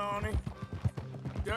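A horse gallops in Red Dead Redemption 2, its hooves a quick, even rhythm of soft thuds under someone talking.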